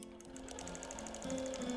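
A quilting machine in regulated mode stitches a meander across a quilt, producing a fast, even mechanical rattle with a steady hum, close and moderately quiet, rising slightly in pitch near the end.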